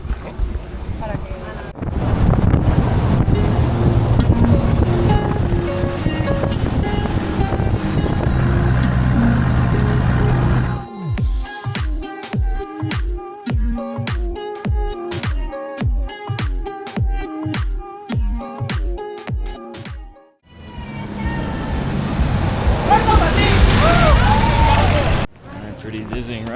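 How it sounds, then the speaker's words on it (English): Jeep ride toward Filandia in Colombia's coffee region, a steady loud rumble and wind roar that gives way midway to a rhythmic, evenly spaced thumping or clatter, then returns to a continuous engine drone. "I'm taking one of these incredible jeeps once again"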